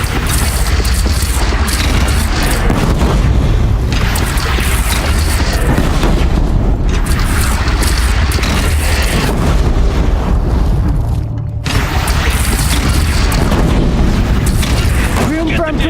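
Heavy, continuous gunfire and booming blasts in the Horizon video game roar loudly and almost without pause, broken only by one brief gap, with voices talking over the barrage.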